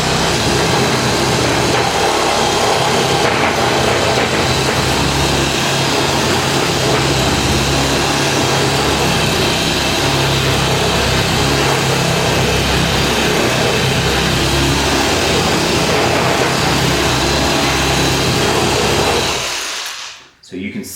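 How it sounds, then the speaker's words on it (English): A power tool rasps and sands a wood edge to round it over, a loud continuous grinding whine that holds steady for about twenty seconds and then cuts off abruptly. "So you can see how effective rasping and eventually sanding and rounding over can be."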